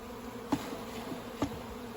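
Honeybees buzz steadily across a frame lifted from a nuc hive, a continuous low drone with two brief louder swells as insects pass close.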